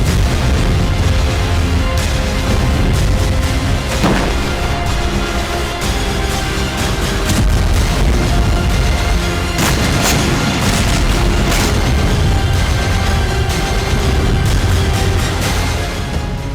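Explosions from suicide drone attacks on an oil depot near Crimea: dense, loud, continuous rumbling blasts and booms with sharp bursts scattered throughout, no talk.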